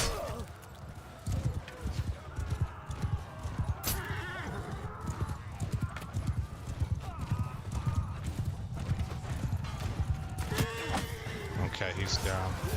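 Horse hooves clip-clopping in the modded medieval battle game Bannerlord, rapid repeated hoofbeats with occasional neighing under ongoing battle noise, while someone talks over much of it.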